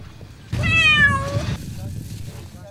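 A cat gives one long, clear, drawn-out meow close by, over steady background noise, with a voice talking around it.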